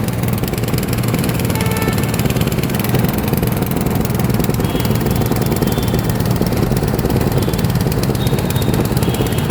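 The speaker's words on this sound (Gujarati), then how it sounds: "એન્જિન છે બાઇકનું જ છે કેરોસીનથી ચાલે પેટ્રોલથી ચાલે" A small kerosene- or petrol-fuelled bike engine driving a sugarcane juice machine, a loud, steady close mechanical drone and rattle running without a break for about ten seconds.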